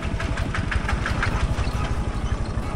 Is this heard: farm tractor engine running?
yes